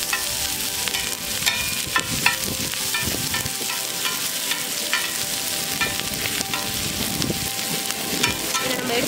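Onions and green chilies sautéing in hot oil for mutton kothu kari fry, a steady dense sizzle close by with frequent stirring scrapes and clinks throughout, no voices.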